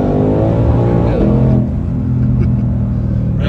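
A 2020 Shelby GT500 accelerates on a road, its engine rumbling loud and close with a rising, then settling tone beneath conversation inside the car.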